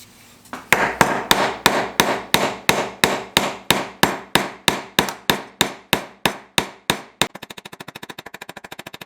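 A hammer peens over the tang of a damaged WWII knife during restoration: about twenty sharp, ringing metal strikes at a steady pace, close and loud, ending in a quick run of lighter rapid taps.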